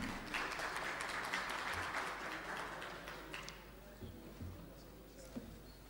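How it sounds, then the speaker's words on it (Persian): An audience at an international management conference applauding a speaker, a few seconds of steady clapping that then fades into scattered claps and room noise. "خواهش میکنم دوستان و عزیزان حاضر تشویق بفرمایید جناب آقای قاسمزاده رو برای ارائه خودش"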